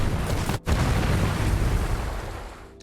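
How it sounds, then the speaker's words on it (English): A film explosion set off by explosives near a lighthouse produces a loud, dense roar that fills the whole clip. It breaks off for a moment, surges back, and then slowly fades. "Many of the animals are killed by the explosion that follows."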